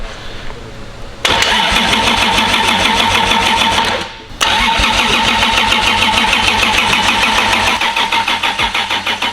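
A Toyota 2JZ engine cranks and fires on its first startup in a project car, a loud rapid mechanical chatter that briefly dips and then catches into a steady, pulsing run close by.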